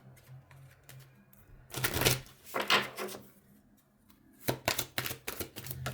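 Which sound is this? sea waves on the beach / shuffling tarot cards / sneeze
shuffling tarot cards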